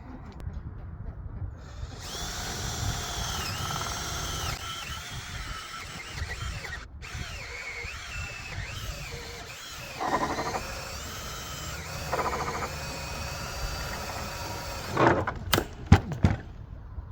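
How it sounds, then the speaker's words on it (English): A power drill bores a pilot hole in wood for a pallet gate bolt, whining steadily for long stretches, pitch shifting as it bites, with brief pauses and a few clunks near the end. "I'm gonna need to drill a hole just under the size of my bolt"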